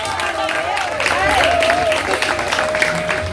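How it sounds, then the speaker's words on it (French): Audience applause at a graduation ceremony, steady clapping mixed with crowd noise and a sustained tonal sound, fairly loud throughout, with voices mingling in the background. "on les applaudit"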